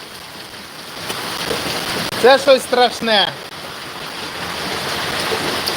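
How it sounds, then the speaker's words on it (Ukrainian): Heavy rain pours down outdoors during a downpour with hail, a dense steady hiss filling the whole stretch while someone speaks briefly over it. "Я давно не пам'ятаю такого дощу."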